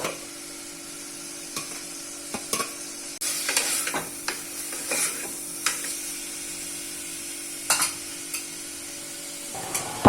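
Chopped tomatoes go into fried onions in a pan for a Tamil mutton curry. The sizzle is soft and steady, broken by sharp utensil clicks and scrapes at irregular moments, close up with no voices.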